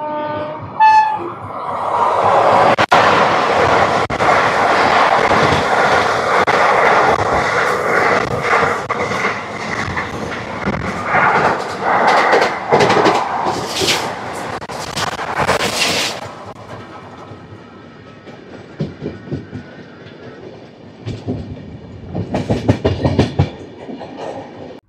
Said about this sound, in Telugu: West Coast express.